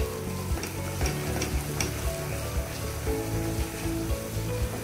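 Ground spices such as garam masala and cumin powder sizzle in a hot pan while being stirred and sautéed, close, with rhythmic spatula scrapes over a steady fry.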